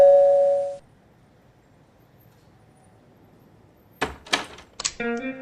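In a dubbed South Indian film scene, a doorbell sounds a brief bright chime, then after a quiet stretch come some clattering knocks and another ringing electronic tone.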